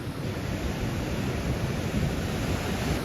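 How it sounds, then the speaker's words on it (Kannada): Sea waves breaking on Udupi beach on the coast, a steady continuous surf wash with some wind noise, heard alone without speech. "ಇಲ್ಲೇ ಬೀಚ್ ನೋಡ್ಕೋತ ಅಲೆಗಳ ಸದ್ದು ಕೇಳಿಸ್ಕೊತ ಇಲ್ಲೇ ಕೂತಿ ನೋಡ್ರಿ"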